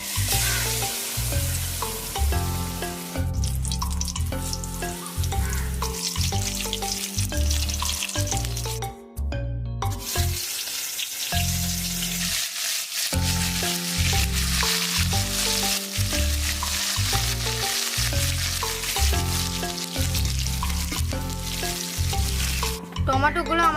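Tomato slices coated in gram flour batter fry in hot oil with a continuous loud sizzle and crackle throughout, while rhythmic background music plays alongside.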